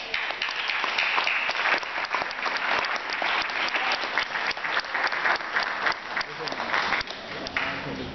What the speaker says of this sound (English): I would like everybody to give a big round of applause to Kazambi Back